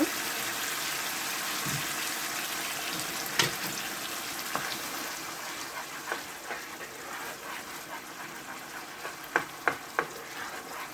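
Honey is poured into spicy chicken frying in a pan with South Indian spices, and a continuous sizzle runs under scattered light clicks and stirring scrapes.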